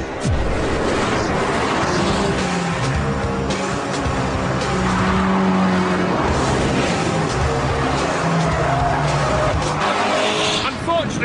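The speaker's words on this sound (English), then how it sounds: "Once you punch the starter button and headed out onto the track" A KTM X-Bow sports car driving hard on a track, its engine loud and constant throughout with shifting revs and possible tire squeal, while a voice talks over it.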